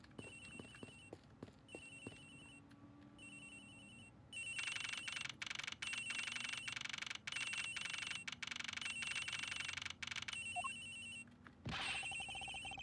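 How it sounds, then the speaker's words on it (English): A telephone aboard an aircraft in Ace Attorney Investigations rings again and again with a shrill, steady electronic bell. Soft early chimes build into long, loud ringing bursts that repeat with brief gaps, and nobody talks over them. "Sounds like the phone is up in the flight attendant's room."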